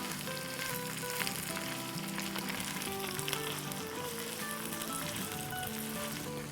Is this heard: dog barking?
no